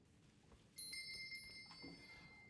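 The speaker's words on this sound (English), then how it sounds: "Why do I hear a bell?" A bright, high bell rings out in the video game Elden Ring amid a highwayman fight, its clear metallic tone sustaining and ringing on after a sudden onset, with faint combat thuds beneath.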